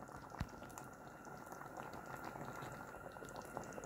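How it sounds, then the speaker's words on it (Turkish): A pot of homemade tomato sauce simmers and bubbles steadily, a soft continuous popping and gurgling heard up close with no voices. "Domateslerim pişmeye devam ediyor."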